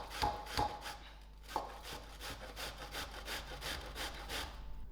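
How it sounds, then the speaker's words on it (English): A cauliflower head gripped by its flower stems is grated on the rough side of a box grater, giving a steady run of scraping, rasping strokes in a quick, even rhythm, close by with no talk. "I'll grip on to the flower stems and I'm going to grate"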